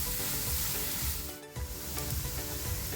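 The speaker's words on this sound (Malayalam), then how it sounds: "എല്ലാം കൂടെ നമുക്കൊന്ന് നന്നായി വാട്ടിയെടുക്കാം" Grated carrot, finely chopped onions and other vegetables sauté in a pan for a healthy breakfast dish. A steady close sizzle with soft stirring scrapes runs throughout, with a brief dip in the middle and no talking.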